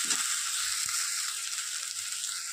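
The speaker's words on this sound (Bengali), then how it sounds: "খুব ভালো করে কষিয়ে নিয়েছি মশলাটা" Spice masala for chana dal frying in a pan, a steady bright sizzle that holds evenly throughout with a faint clink or two underneath.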